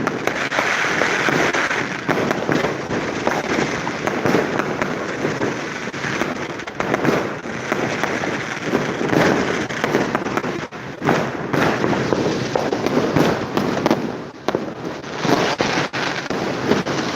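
Fireworks marking the New Year arrival of 2026 crackle and pop in a dense, continuous barrage, with a roaring wash of noise and wind rumble.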